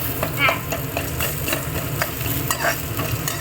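Green chili and lentils for beans paruppu usili sautéing in a pan, with repeated scraping strokes of a spatula over a continuous close sizzle and no talk.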